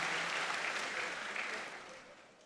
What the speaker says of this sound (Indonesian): tepuk tangan yang hebat untuk anak-anakku